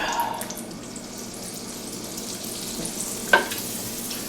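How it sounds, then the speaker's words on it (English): A half stick of butter melts in a cast iron pot over a low wood fire, giving a soft, steady sizzle and crackle with one sharp clink near the end and no talking. "I got about a half a stick of butter here. Get that melting up."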